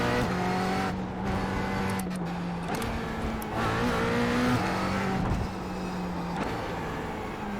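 A GT4 race car lapping the Iowa Speedway Roval in iRacing, its engine droning steadily from the cockpit with repeated gear shifts, lifts and rises in pitch under acceleration.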